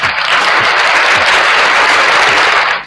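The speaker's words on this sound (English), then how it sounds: "let's give a round of applause to this church" Steady, dense applause from a crowd for a church, loud and sustained for the whole stretch without a break.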